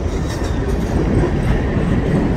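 A freight train rolls through a rail yard, a loud, steady, close rumble of wheels and cars with a dense low roar and no voices.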